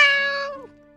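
A single short cat meow from the video game Chicory, clear and close, fading out quickly with a slightly synthetic, tonal quality.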